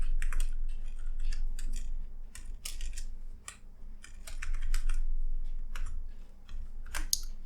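Rapid, uneven clatter of keys on a computer keyboard in bursts with brief pauses, close and fairly crisp over a low steady hum.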